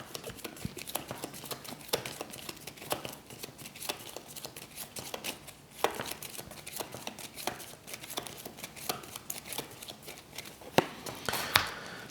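A deck of Aeon's End cards shuffled by hand on a table, soft repeated riffling and tapping bursts, close but quiet, with no voices.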